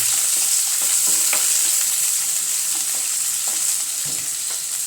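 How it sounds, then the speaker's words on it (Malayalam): Onion, green chilli and ginger frying with popped mustard seeds in a pan, a loud continuous hissing sizzle with light stirring scrapes, close up and with no voices. "കടുക് പൊട്ടിക്കഴിഞ്ഞപ്പോൾ ഞാൻ സവോള, പച്ചമുളക്, ഇഞ്ചി ഒരു സാധനം അതിനകത്തേക്ക് ഇടുന്നുണ്ട് കേട്ടോ"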